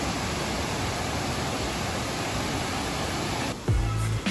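Khlong Lan waterfall in Kamphaeng Phet, with water pouring down as a steady, dense roar that fills the whole clip, and a brief low rumbling bump near the end.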